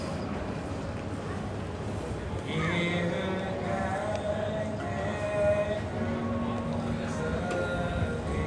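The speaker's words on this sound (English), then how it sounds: "From Cambridge train station" Ambience at Cambridge train station: a steady hum of platform noise with a mechanical tone that rises about two and a half seconds in and carries a few whining tonal lines, voices faintly mixed in.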